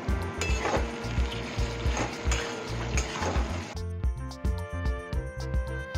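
Potol posto being stirred in a pan with cumin powder just added: a spoon scrapes and clinks against the pan in an uneven rhythm over a soft sizzle, close by.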